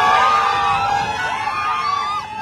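A crowd at a political rally cheers and shouts in a dense, continuous roar of many voices, loud and close throughout.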